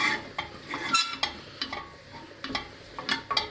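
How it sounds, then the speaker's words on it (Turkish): A spoon stirs flour in a pot for creamy mushroom soup, giving a series of short scraping strokes against the pot at an irregular pace, close and fairly quiet, with no talk. "iyice karıştırıyorum ki un iyice pişsin"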